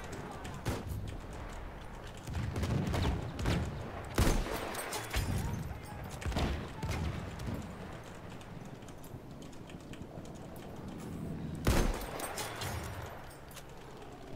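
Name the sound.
sniper rifle gunfire in video game Battlefield 1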